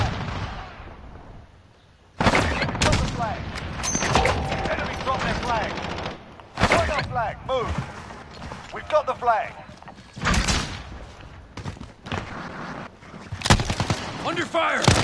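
Call of Duty online match gunfire, dense and loud, with repeated sharp shots and bursts running throughout, mixed with explosions and in-game voice callouts.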